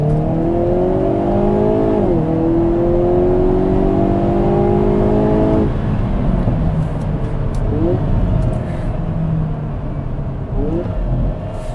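A 2022 Hyundai Kona N accelerates hard with overboost engaged, its engine note climbing through the gears with shift dips and a steady droning roar, heard from inside the cabin.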